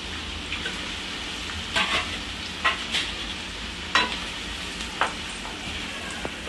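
Two large onions dropped into heated oil for a quick chicken gravy, frying with a steady sizzle broken by several sharp stirring scrapes and clatters of a spoon against the pan.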